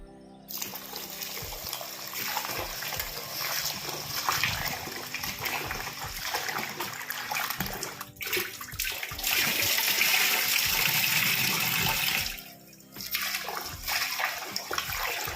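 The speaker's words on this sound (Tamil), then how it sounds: "இது மாதிரி ஒரு 4 டைம் நல்லா வாஷ் பண்ணிட்டீங்க அப்படின்னா நமக்கு இதில் இருக்க அழுக்கெல்லாம் போயிடும்." Rice is washed for murukku in a bowl of water, with continuous close sloshing, trickling and splashing as the grains are rubbed and rinsed, briefly quieter near the end.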